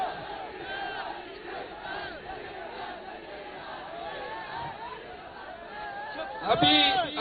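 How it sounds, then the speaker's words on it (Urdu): A large crowd at a political rally in Pasheen shouts and chants slogans in a dense, continuous roar that swells into a louder burst near the end. "اب یہ نعرے نہ لگاؤ"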